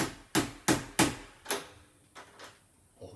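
A hammer gently taps a magnetic latch into a mobile home bathroom cabinet, giving four sharp, evenly spaced knocks, then a few softer, more spaced taps, close and fairly quiet.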